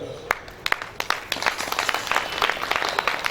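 Hand clapping from a congregation at a devotional bhajan and kirtan gathering, starting as a few scattered claps and building into steady, dense rhythmic applause from many people.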